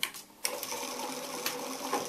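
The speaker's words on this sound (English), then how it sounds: "Put it edge on edge there, and you start sewing exactly where that last stitch is." A sewing machine stitches a sleeve cuff with a placket, starting after a brief pause and then running in a quick, soft, steady rattle at close range.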